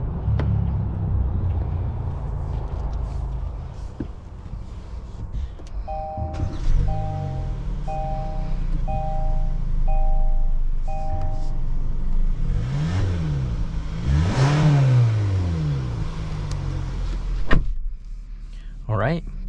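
A 2023 Kia Sportage X-Pro SUV on a test drive, its engine note rising and falling as it accelerates, with steady cabin road noise throughout, a few short electronic chimes partway through and some talk over it.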